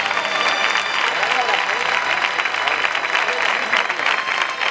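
A crowd applauds at a bull-leaping contest (concurso de recortes) in Peralejos de Abajo, a dense, steady wash of clapping that holds loud throughout with an announcer's voice over it.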